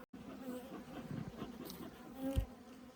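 Honeybees buzzing in a queenless beehive, a faint close-up hum of many wings with individual bees droning past, alone with no talking.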